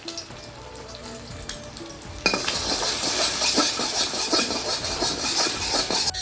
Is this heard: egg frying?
yes